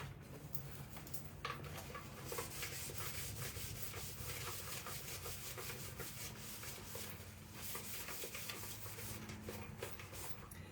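Cloth rubbing wax over chalk-painted thrift store furniture, a steady, close scrubbing swish running continuously with quick rhythmic strokes throughout.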